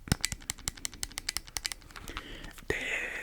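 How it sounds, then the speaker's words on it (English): Buttons on a Nintendo 3DS console are pressed in close, crisp clicks, a quick irregular run of about a dozen taps, followed by soft rustling and a quiet whisper. "All the motor parts of the console still work just fine. You can hear the clicking just fine."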